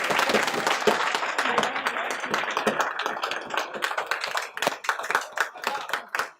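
Students in an audit lecture class clap for a classmate, a close burst of many hands with sharp individual slaps that thins into scattered claps toward the end, with some voices mixed in.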